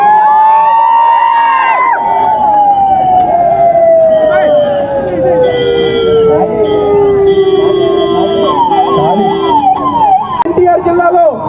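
An ambulance siren wails loud and close as it pushes through a packed political rally crowd in Vijayawada, its pitch sliding steadily downward over a dense murmur of people.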